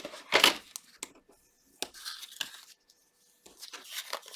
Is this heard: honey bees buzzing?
no